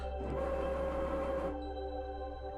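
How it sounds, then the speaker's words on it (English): A home printer whirs and churns steadily for about a second and a half, then drops to a lower, quieter mechanical hum with a faint tonal whine continuing underneath. "that's my printer going"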